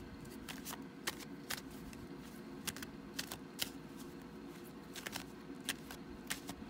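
Tarot cards are shuffled by hand in soft, irregular riffling clicks and flicks, close and quiet over a low steady background hum, with no talking.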